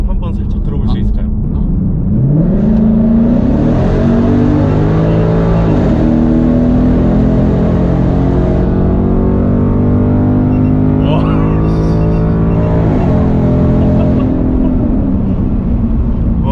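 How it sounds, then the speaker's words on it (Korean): Exhaust of a sixth-generation Ford Mustang GT with the 5.0 V8, echoing in an underpass: a loud, close engine roar with repeated revs rising and falling over a steady deep rumble, continuous throughout. "여기 지하차도인데 여기서 배기음 한번 살짝 들어볼 수 있을까요?"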